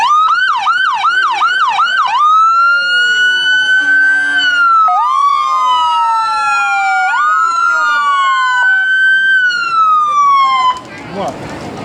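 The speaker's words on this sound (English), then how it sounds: "The Drummond Volunteer Ambulance." A volunteer ambulance in a rodeo parade sounds its siren loud and close, first with a fast yelping wail, then with long rising and falling wails that cut off abruptly at the end into street noise.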